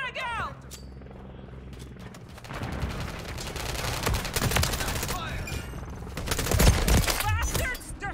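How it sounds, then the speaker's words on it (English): Gunfire in Modern Warfare 3 multiplayer: rapid automatic bursts and heavy rumbling fusillade, loud and dense, with shouted voices mixed in over the shooting. "They're shooting at me!"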